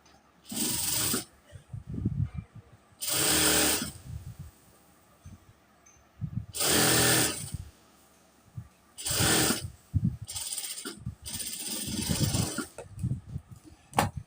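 A sewing machine stitches along the pressed edge of a pleated nighty, running in several short, close whirring bursts of a second or so, separated by quiet pauses.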